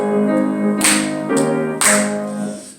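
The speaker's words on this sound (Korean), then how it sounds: "박수 치면서 한번 찬양하겠습니다" A church congregation claps along in rhythmic bursts while hymn 458 is sung and played, the claps landing as sharp, evenly spaced hits over the sustained music.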